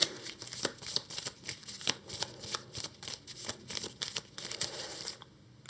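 A deck of Earthborne Rangers game cards gets shuffled by hand close up, a rapid run of crisp riffling bursts repeating in quick rhythm for several seconds before stopping.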